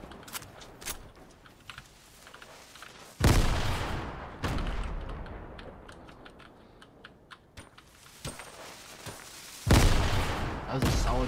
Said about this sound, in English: That was a solid grenade.